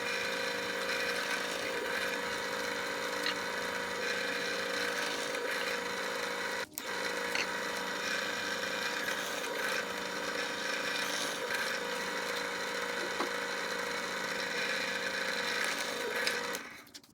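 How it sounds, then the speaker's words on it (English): A power drill with a 1/8 inch bit bores a nail hole in wooden board pieces, a steady close whirring hum that runs almost continuously with a brief break, then winds down at the end. "To get the hole for the nail, I'm going to use this 1/8" drill bit"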